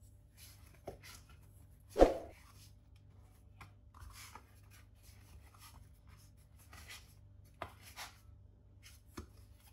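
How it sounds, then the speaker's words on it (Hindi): A knife cuts soft bread dough into small pieces on a board, giving a few scattered dull taps and scrapes, one firmer chop standing out, all close and quiet against a low background hum. "अब यहाँ पे छोटे छोटे हम इनके पीस काट लेंगे"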